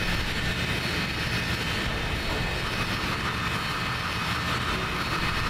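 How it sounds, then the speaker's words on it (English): Engine noise from a cutscene in the video game Sonic Adventure DX: a steady, loud, broadband roar that drones without a break, with no talk. "Was this cutscene really necessary to just show off engine noise."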